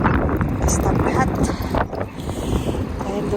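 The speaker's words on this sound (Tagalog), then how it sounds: "Grabe yung hangin guys, ang lakas." Strong, freezing wind in Edmonton roaring and gusting hard against the microphone, a continuous loud buffeting that nearly covers a person talking through it.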